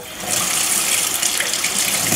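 Cold water runs steadily from a tap, a continuous close hiss and splash that holds evenly for the whole stretch with no voices over it.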